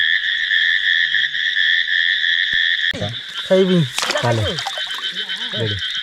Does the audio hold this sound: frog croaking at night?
yes